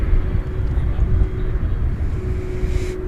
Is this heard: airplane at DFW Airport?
yes